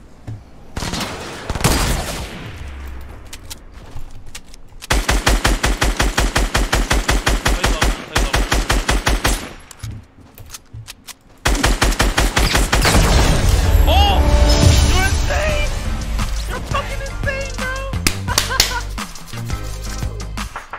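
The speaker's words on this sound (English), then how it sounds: "Oh, I love that sniper shot." Video game gunfire with sniper rifle shots in a clutch battle royale-style duos match: sharp repeated bursts, dense rapid automatic fire in the middle and a long sustained barrage of shots and booms at the end, loud and close.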